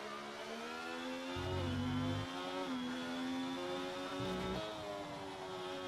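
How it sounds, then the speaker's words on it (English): F1 car engine in a racing video game at Bahrain, a steady high-pitched whine with two short dips in pitch as it downshifts, continuous and fairly close. "Quick downshift as it goes through the winding section."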